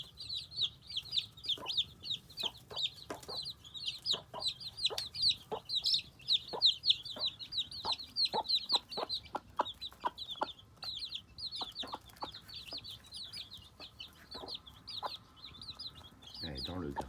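Hens cluck softly and repeatedly while many chicks cheep in a constant high, dense chatter close by, with a brief rustle at the end.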